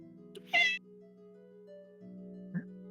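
A cat gives one short, clear meow, with a faint second sound after it, over a steady background hum.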